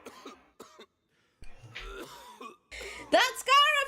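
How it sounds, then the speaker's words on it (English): A voice in a video game speaks briefly, then breaks into several harsh, raspy coughs and throat clearing, loud and close. "Why is he coughing so much?"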